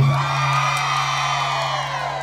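On the left side, the crowd at a Women's Day 2022 celebration in Villanueva gives a long, loud whoop. Massed cheering voices hold steady over a persistent electrical hum.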